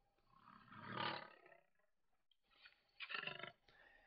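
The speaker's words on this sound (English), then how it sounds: "a little lion roaring audio clip, something short" A short lion roar clip played back in a slideshow: two deep, rumbling roars separated by a brief pause, clear and isolated with no talk.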